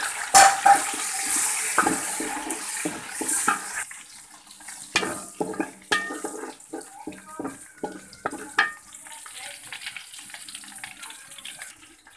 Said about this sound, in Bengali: তেল দিয়ে পরিমাণ মতো পেঁয়াজ কুচি দিয়েছি, এখন এটাকে ভালো করে ভেজে নিব।